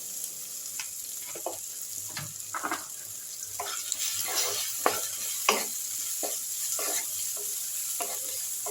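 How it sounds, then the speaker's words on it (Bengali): Onion and tomato frying in a pan with mustard seeds, curry leaves and a little salt: a constant soft sizzle with regular scraping strokes of a spatula, close by, no speech. "পেঁয়াজটা টমেটোটা একটু ভাজা ভাজা হয়েছে"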